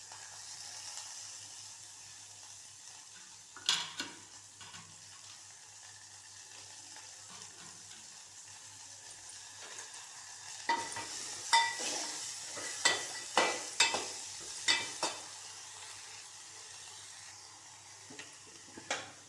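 Fresh coriander leaves fry in a pan for a finger millet porridge dish, a faint low sizzle with a few quiet scrapes early on, then a burst of sharper stirring scrapes and clinks toward the end.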